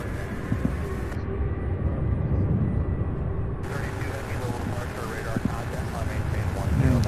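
An airplane takes off at Louisville International Airport, a distant steady jet roar rumbling beneath people talking, with wind buffeting the microphone.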